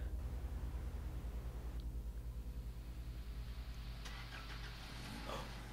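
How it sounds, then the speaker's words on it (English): A car engine in the horror game Cry of Fear, a low steady rumbling idle with a pulsing throb that swells slightly toward the end, fairly faint. "It's the car."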